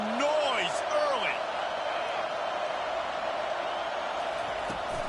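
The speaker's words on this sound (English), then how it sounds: "This crowd bringing the energy and noise early." Broad steady crowd roar fills a football stadium during a Penn State at Washington game, a constant wash of noise with brief whoops and whistles early on, and a commentator's voice riding over it.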